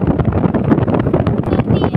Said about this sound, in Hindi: ठंडी हवा चल रही है प्रेशर के साथ